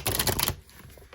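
A thin-stocked tarot deck is shuffled up close in a dense, rapid riffle of papery flutter, stopping abruptly with a single card snap afterward.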